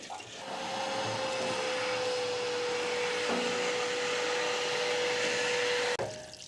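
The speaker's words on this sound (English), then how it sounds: "Oh, I guess we could get a vacuum, wet dry vac." A wet dry vac runs steadily while sucking sediment out of a tank, a loud sustained motor whine with a constant tone and airy roar, cutting off abruptly near the end.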